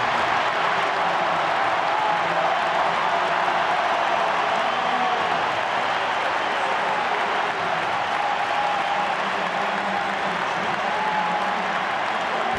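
Stadium crowd at an Argentina versus Chile football match applauding to welcome Lautaro Martinez and Angel Di Maria onto the pitch, a dense, steady roar of clapping that holds throughout.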